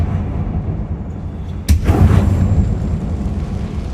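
A Confringo spell blast in Hogwarts Legacy goes off as a single sharp, close explosion that rumbles and fades over a couple of seconds, over a steady low game ambience.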